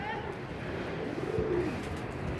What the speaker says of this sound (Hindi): कबूतर को उड़ाना शुरू हो गए हैं।